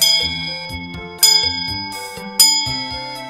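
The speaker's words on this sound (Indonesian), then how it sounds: "Nah, udah bel tuh Nis, cepet simpen HP-nya." A school bell rings in three separate bursts with clear metallic tones over a steady electronic musical jingle, each burst loud and close with short gaps between them.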